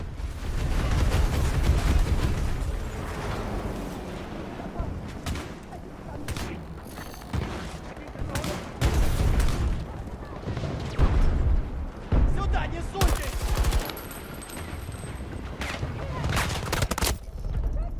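Heavy firefight in Battlefield 2042 on Xbox Series X, with loud bursts of automatic fire, sharp cracks and booming impacts coming in uneven waves, while a player talks through much of it.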